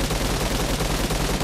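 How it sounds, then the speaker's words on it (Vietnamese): Rapid automatic gunfire in the PUBG Mobile battle royale game, a steady dense stream of repeated shots with a regular rhythm, loud and continuous throughout with no talking over it. "chung cư vẫn đang còn tiếng súng kìa"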